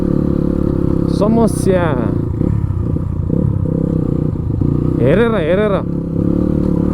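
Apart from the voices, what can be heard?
motorcycle engine while riding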